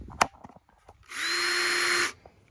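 A power drill spins at high speed in one continuous, loud whine lasting about a second, close by, with a few small knocks and handling sounds before and after.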